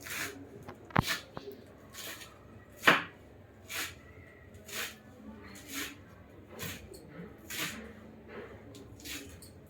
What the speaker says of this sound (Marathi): आपण इकडे कोथिंबीर फाईन चॉप करून घेतो आहे